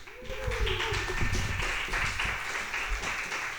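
Audience applause at a talk on connecting instruments to digital mixing consoles: steady, fairly loud clapping from a crowd that runs for several seconds without any voice over it.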